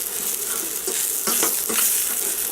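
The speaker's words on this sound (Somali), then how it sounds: "basashaan ku walaaqaya" Onions sizzle and fry in a pan while being stirred for a bulgur and meatball sauce, steady close crackle with a few scraping stirs and no talking.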